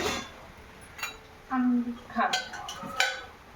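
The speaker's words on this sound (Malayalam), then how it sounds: "എന്നിട്ട് നമുക്ക് നല്ല മിക്സ് ചെയ്ത് കൊടുത്തോണ്ടിരിക്കാം." Carrot halwa sweetened with jaggery is stirred in a pan, giving soft scraping and a few light metal clinks of a spoon against the pan, with a brief voice partway through.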